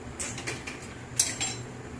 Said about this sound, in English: I just stir the whole thing